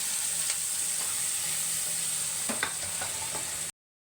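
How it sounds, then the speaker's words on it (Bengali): Chopped onions fry in a pan for khichuri, giving a steady close sizzle with a few soft stirring clicks near the end before it cuts off. "পেঁয়াজটা একটু ভাজা ভাজা হোক"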